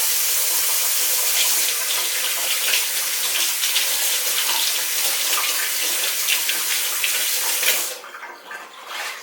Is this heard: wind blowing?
no